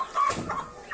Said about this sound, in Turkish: demek ki çapar horozumun yavruları